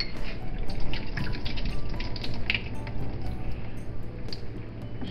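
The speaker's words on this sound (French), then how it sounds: "Je vide l'eau des olives." Water drained from a container of green olives in a kitchen, a steady splashing pour with trickles and drips, close and continuous, without talk.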